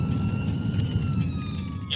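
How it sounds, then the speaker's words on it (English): A steady electronic police car siren wails in the distance under a constant low road rumble, fairly faint and continuous throughout. "His sirens are now on."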